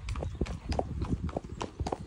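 A horse out hacking clip-clops past on a lane, a steady quick run of hoof strikes, fairly close and quiet, with no voices over it.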